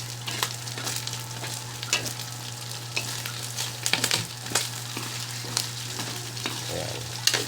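Pork and string beans fry in a kawali pan, a loud steady sizzle close by with scraping stir strokes and light clinks of the spatula, with no talking.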